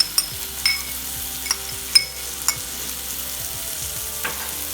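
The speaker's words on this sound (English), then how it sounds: "And be sure to be thorough about stirring them in." Chilies and spices are stirred into vegetarian white chile frying in a pot, a soft steady sizzle broken by several sharp clinks of a utensil against the pan.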